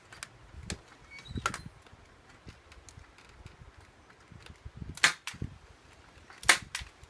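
Sharp snapping clacks of a staple gun fastening a hand-woven textured panel, a few isolated shots spaced seconds apart, with quiet handling sounds between.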